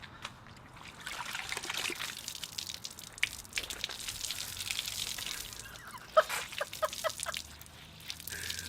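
Water trickling and dripping off a wet car panel, a soft continuous dribble with scattered drips and a few sharper splats toward the end, close and quiet.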